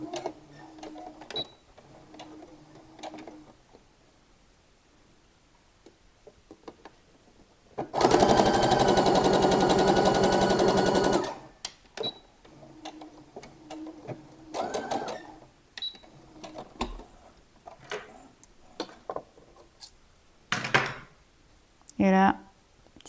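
A sewing machine runs in one steady burst of about three seconds, stitching fabric pieces right sides together with a 1 cm seam allowance, framed by handling clicks and brief talk.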